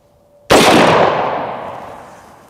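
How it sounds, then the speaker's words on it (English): A single .458 SOCOM rifle shot striking AR500 steel body armor: one sudden, very loud crack with a bright metallic ring that decays slowly over about two seconds, no talking. "This is a .458 SOCOM, one of the biggest, scariest rounds out there."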